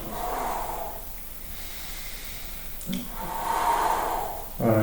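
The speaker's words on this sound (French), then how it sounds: "Inspirez, expirez. Inspirez, expirez." Breathing in and out during an arm-strengthening exercise with an elastic band, with a couple of audible breaths and a snort-like exhale standing out against a soft background.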